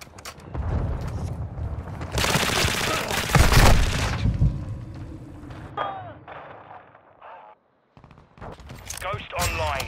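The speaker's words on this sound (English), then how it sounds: "Taking effective fire!" Gunfire in a Call of Duty Modern Warfare 2 battle in Mawizeh Marsh: rapid automatic bursts and heavy thuds, loud and close, mixed with shouted voices and brief quieter gaps.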